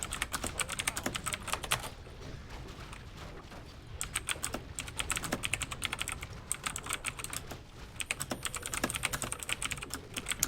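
Keys on a computer keyboard clatter in quick, uneven bursts over ten seconds, with short gaps between flurries, close but soft under a low background hum.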